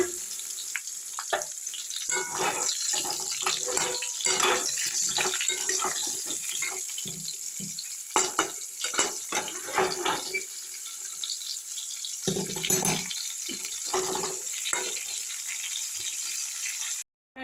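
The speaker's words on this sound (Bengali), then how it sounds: "এবার পটলগুলো আমি কড়ার মধ্যে দিয়ে দেবো, দিয়ে আমি লাল লাল করে ভেজে নেব।" Sliced pointed gourd (potol) frying in hot oil in a kadai, with a steady close sizzle broken by scraping stirs and clattering bursts.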